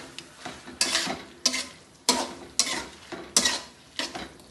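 Chopped tomatoes and onions being stirred in a pan, with a string of scraping, sizzling strokes coming in a steady rhythm about every half second, close and moderately loud, with no voices.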